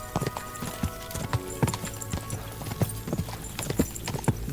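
Horse hooves clip-clop in a quick, steady trotting rhythm in the video game Kingdom Come: Deliverance II, sharp and close, over a low background rumble.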